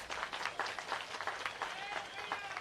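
A rally crowd at the Kalahari Mahotsava in Balod claps steadily through a political address, dense overlapping hand claps filling the space for a few seconds with no voice on top.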